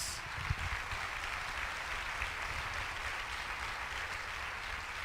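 A church congregation applauds during a sermon, a faint, steady, distant roar of clapping with a low hum underneath, holding level throughout.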